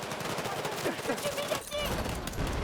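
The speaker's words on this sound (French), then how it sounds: "Suffit des tirs." Automatic gunfire from the video game Battlefield 6 rattles in rapid bursts amid game effects, with voices talking over the shooting.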